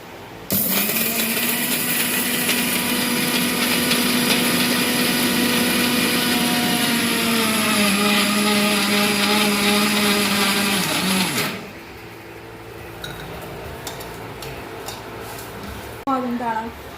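A mixer grinder grinds sesame for ellu podi, roaring loudly and steadily for about eleven seconds before cutting off, followed by quieter kitchen clatter and faint rattling.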